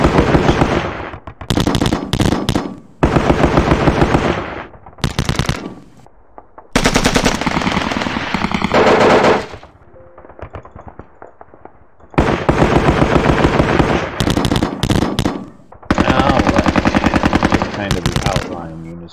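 Loud bursts of machine-gun and rifle fire from the wargame Sealion '40 by John Tiller Software come in long rattling volleys separated by short quiet gaps.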